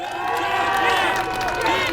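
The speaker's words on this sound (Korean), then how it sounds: "여러분 박수 한번 보내주시기 바랍니다." Crowd at a Justice Party campaign rally in Cheongju, South Korea, cheering and applauding in a dense continuous roar with voices shouting over it, loud and close.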